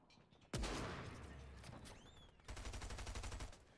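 Shotgun gunfire in the video game Fortnite: one sharp, loud blast followed by a ringing tail, then a rapid burst of repeated shots closing out the clip.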